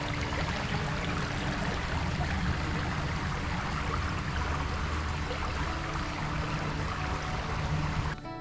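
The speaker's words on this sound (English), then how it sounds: "I hung out here for a little while and just listened to the creek." Creek in Umstead Park flowing steadily over rocks, a close, continuous broadband rush and gurgle with no talking.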